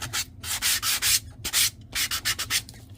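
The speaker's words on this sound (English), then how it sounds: "So you're sanding a little bit off, so you see a little bit of white." Paper card edge is sanded in short, quick back-and-forth strokes, a close, dry scratchy rubbing that comes in about a dozen rhythmic bursts with brief pauses, with no voices.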